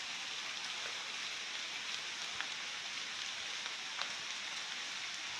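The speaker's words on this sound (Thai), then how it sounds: "ฝนตกมาอีกแล้วนะ" Steady rain falls in a dense, even hiss with occasional sharper drops standing out, no voices, constant and moderately close.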